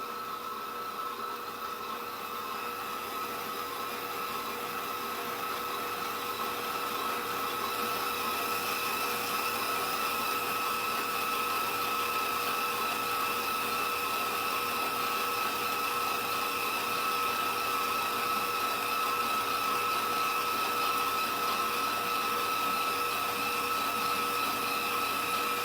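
Electric mixer beating chocolate pound cake batter, a steady close motor whir with constant tonal hum running unbroken throughout, loud and unchanging.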